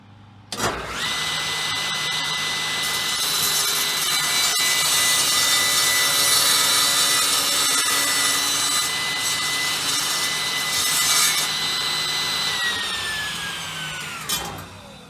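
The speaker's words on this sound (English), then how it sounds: "You saw some sanding." A power sander works steadily on a piece of wood for about fourteen seconds, a continuous close whirring abrasion that starts abruptly and winds down at the end, with no voices.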